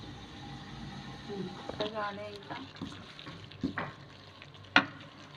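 Gongura leaves go into a hot kadai and fry with a soft sizzle and some stirring and clatter, with a sharp clink near the end and a person talking throughout.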